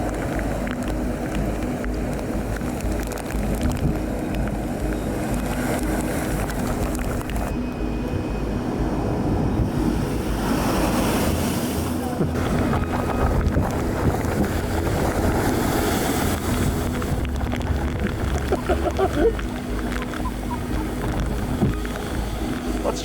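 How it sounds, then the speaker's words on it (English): Hurricane Henri's massive storm waves pound rocks and a seawall southwest of Newport, Rhode Island, a continuous roaring surge with heavy wind buffeting the microphone and swells rising and falling throughout. "let us watch these massive 10-foot waves crash into the rocks and seawall just southwest of Newport"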